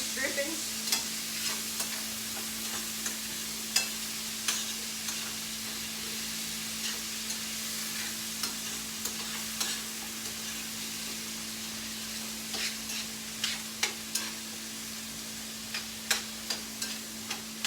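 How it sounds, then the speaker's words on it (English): Chicken pieces are stirred in grease drippings in a pan for Creole chicken and rice, a soft steady sizzle with repeated scraping clicks of the spoon, close and fairly quiet, no talk. "we're going to stir this around just a minute. Let that get all coated in the grease drippings."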